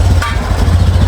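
A motorcycle engine runs close and loud with a steady low rumble and slight clatter, heard briefly on a village road during a local festival outing in Hubli, Karnataka.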